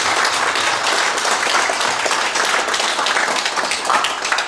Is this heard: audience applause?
yes